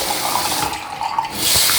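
Tap water runs steadily while a razor blade is wetted before shaving with a Merkur 34C safety razor, a continuous close splashing hiss that swells louder near the end.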